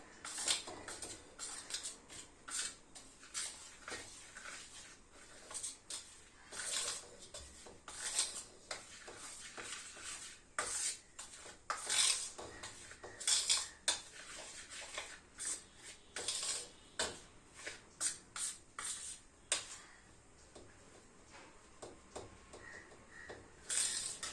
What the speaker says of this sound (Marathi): तूप गरम आहे म्हणून चमच्याने आधी सगळं ढवळून घेऊया